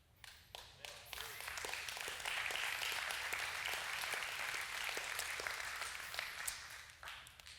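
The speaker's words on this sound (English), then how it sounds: "Because that was a little puny little golf clap." A church congregation gives a thin, scattered golf clap. The light, close patter builds a little, holds for several seconds, then trails off into a few last claps.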